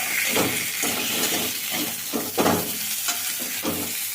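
Mutton with potatoes frying in a single teaspoon of oil, a close, loud sizzle with rhythmic stirring scrapes recurring roughly every half second, no talking.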